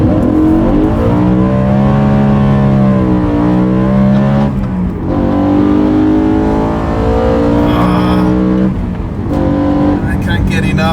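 A BMW E9X M3's front-mounted V8 revs and pulls hard, a loud, close, continuous engine note that climbs and dips in pitch through the gears, with someone talking over it.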